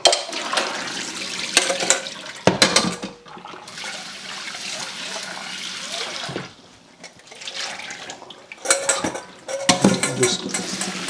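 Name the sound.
rinsing yellow split peas in water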